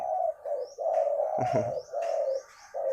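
A spotted dove coos in low, soft, repeated notes, close and clear, with faint higher chirps from other birds in the background.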